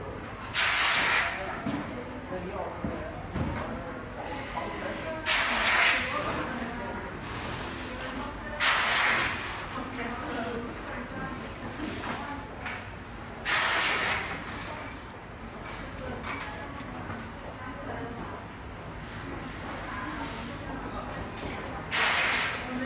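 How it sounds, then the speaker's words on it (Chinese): Air bubbles hiss and sputter from a SECTEC Bullet HD camera leaking during an underwater waterproof test, in several loud bursts spread over a steady background hiss, with people talking nearby. "进水了，那里漏气泡。"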